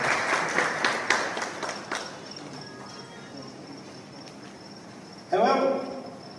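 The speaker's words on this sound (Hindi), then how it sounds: "एक बार ताली बजा के उसका स्वागत।" Brief clapping from a seated audience welcoming a guest at a free health camp event, a short burst of applause near the end after some background noise.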